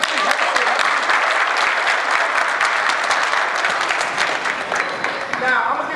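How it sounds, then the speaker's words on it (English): Audience applause from a crowd of young men at a school assembly, a dense steady clapping that fills the room and fades slightly near the end. "Clap up yourselves, guys."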